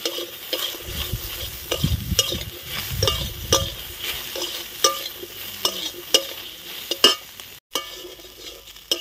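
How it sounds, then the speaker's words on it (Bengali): Taro with salt and turmeric powder is stirred in a frying pan, with repeated scraping and clinking strokes of a spatula over a low sizzle, busy at first and then sparser, sharp taps toward the end, and no talking. "পরিমাণ মতো হলুদ গুঁড়ো। এবার নাড়াচাড়া করে নেব।"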